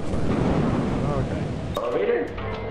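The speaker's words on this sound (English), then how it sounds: "Okay, that's a lot of thunderstorm." Thunder from a storm in the video game Lethal Company rolls as a continuous deep, loud rumble, with a player's voice talking over it.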